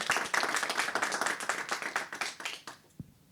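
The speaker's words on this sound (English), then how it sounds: "would you mind joining me in a round of applause for these three?" Conference session audience breaking into a round of applause, dense overlapping hand claps at moderate volume lasting about three seconds before cutting off, followed by a single faint tap.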